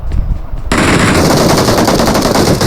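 Rapid automatic gunfire bursts out loud and close in the mobile battle-royale game PUBG Mobile on the Livik map, starting after a brief quieter moment and continuing as sustained dense fire.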